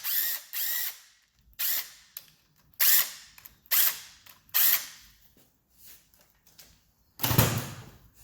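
A 3/8-inch 12-point ratchet clicks in repeated bursts while backing out the hub assembly bolts on a sand rail, about seven short close ratcheting spells separated by pauses, with one heavier clunk near the end.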